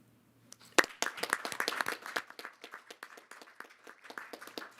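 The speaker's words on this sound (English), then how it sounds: "if you could give a warm round of applause to our students" A small reception crowd gives a round of applause for students, starting with one sharp clap and building into scattered, moderately quiet clapping from a modest group that thins out toward the end.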